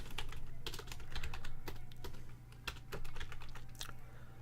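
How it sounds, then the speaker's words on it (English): Computer keyboard typing while writing JavaScript code: a steady run of close, crisp key clicks in uneven bursts over a low hum, with no voices. "ignore me trying to type JavaScript here"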